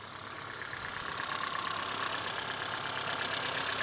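A 1973 Toyota Hilux engine runs at a steady idle, close and continuous, with a broad rough mechanical drone that holds level throughout and no talking.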